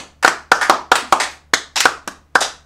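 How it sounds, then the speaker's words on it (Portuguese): Hands clapping during a podcast recording, about seven sharp, close claps in a slightly uneven rhythm, with no talking. "Todo mundo contando as palmas."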